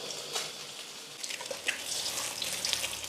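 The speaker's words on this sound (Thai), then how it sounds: "ใส่น้ำมันเย็นลงไปครับ แล้วก็ดาวได้เลย ไม่มีติดกระทะแน่นอน" An egg crackles and hisses as it fries in cold-added oil in a pan, a faint, airy sizzle with scattered small pops.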